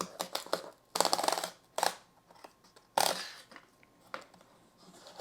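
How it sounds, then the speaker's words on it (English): Someone opens a FedEx overnight envelope with close, quiet bursts of paper and cardboard rustling and tearing, separated by short pauses and small clicks. "This little box came in a FedEx overnight envelope, so we'll open it up"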